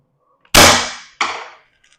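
A single loud gunshot from a Defense Innovations DI.68 fired on semi-automatic at a shooting range, a sharp crack with a ringing tail, then a second fainter impact or echo about half a second later, with no talk.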